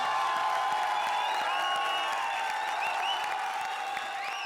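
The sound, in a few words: audience applause welcoming wild card entry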